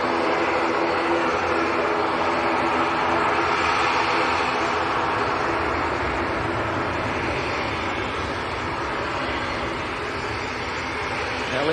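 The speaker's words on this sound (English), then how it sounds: "The TUI Dreamliner's just touched down behind as well." A TUI Boeing 787 Dreamliner lands at Manchester Airport in windy weather, its broad engine roar steady and distant, mixed with wind noise and no talk.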